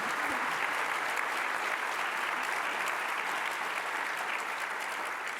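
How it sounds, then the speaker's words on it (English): Audience at a summer policy conference gives a sustained round of applause for volunteers, dense steady clapping from many hands filling the room at an even level throughout, with no talk over it. "So one more round of applause for our volunteers."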